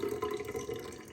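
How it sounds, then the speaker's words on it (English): Cloudy rice-washing water being tipped out of a pot, a quiet steady pouring and trickling stream that runs continuously for a moment without any talk. "So what I do is carefully tip the water out and see how it's really milky"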